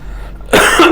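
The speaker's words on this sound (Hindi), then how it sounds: "सॉरी थोड़ा खांसी है" A single sharp close cough from a man giving a maths lecture, a short loud burst after a moment of quiet.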